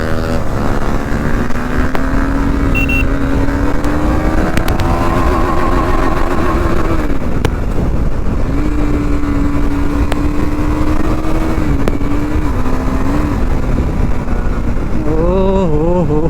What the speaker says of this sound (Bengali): লিমিটার চলে এসেছিল থার্ড গিয়ারে।